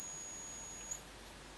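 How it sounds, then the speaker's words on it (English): A steady, very high pure test-tone beep sounds from audio equipment, holding briefly and then cutting off, with no other sound around it. "so now you hear that beep."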